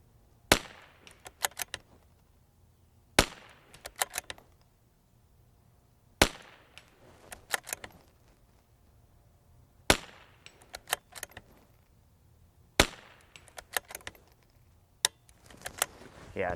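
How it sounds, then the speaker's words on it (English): Tikka T1x MTR .22LR bolt-action rifle, light barreled action, fired outdoors: six sharp, loud individual shots spaced a few seconds apart, each followed by quieter clicks and clatter of the bolt being worked between rounds. "So let me reload and we'll shoot some off the ladder."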